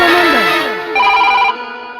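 A telephone ringtone rings out in a Kannada comedy stage play, a bright, repeating electronic melody of falling tones lasting about two seconds, loud and close with no talk over it.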